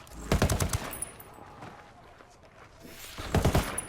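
Rifle gunfire in the Ghost Recon Wildlands video game: two short bursts of rapid, punchy shots, one near the start and one near the end, with a quieter stretch in between.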